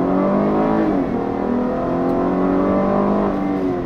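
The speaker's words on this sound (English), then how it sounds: "switching it over to its 4-wheel drive sport mode, and let's try that acceleration run again" A 2017 GMC Acadia Denali SUV in 4-wheel drive sport mode revs hard under acceleration, a steady loud drone rising in pitch with a brief dip at a gear change, no voices.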